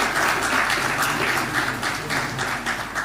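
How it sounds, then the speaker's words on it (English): A loud, steady round of audience applause for Hilary fills a media forum hall, dense continuous clapping from a large crowd throughout. "I think Hilary deserves a better round of applause."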